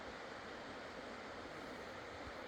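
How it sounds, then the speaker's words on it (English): Camp Creek running high after heavy rains and pouring into the Klamath River near the former Iron Gate site, a steady, dense rushing wash of water heard close and unbroken with no voices. "Camp Creek's flowing pretty good today"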